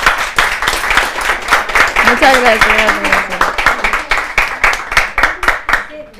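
Audience applause for the cooks at a cooking workshop event, a steady run of clapping throughout with a voice speaking over it briefly.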